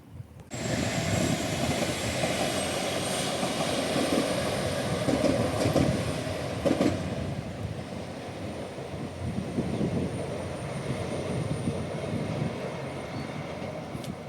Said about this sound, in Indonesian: Ada kereta lewat lagi teman-teman.